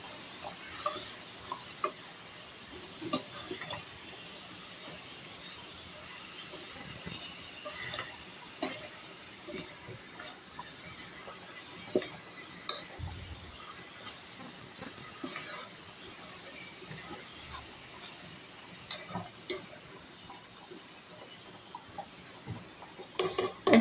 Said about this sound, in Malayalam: ഇനി ഇത് നമുക്ക് നല്ലോണം ഒന്ന് മിക്സ് ചെയ്ത് കൊടുക്കാം